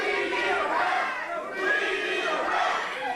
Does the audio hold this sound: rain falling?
no